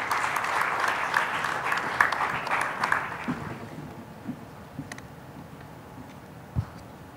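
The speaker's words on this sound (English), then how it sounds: "a round of applause for them," A conference audience at a national leadership conclave gives a round of applause. Brisk clapping lasts about three seconds, then thins to a few scattered claps and quiet.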